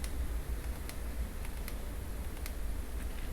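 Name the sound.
aperture ring clicks on Fujifilm XF 35mm f/2 lens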